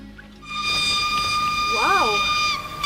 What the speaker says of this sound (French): Oui, mais c'est un train à vapeur.